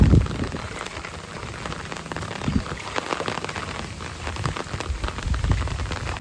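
Heavy downpour in a village, a steady dense hiss of rain drumming on surfaces close by, with occasional heavier bursts and low rumbles, no voices.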